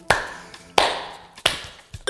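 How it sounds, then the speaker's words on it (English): Three sharp claps of the hands, evenly spaced and close, during a children's ballet lesson, with a faint fourth tap at the end. "Clap three times."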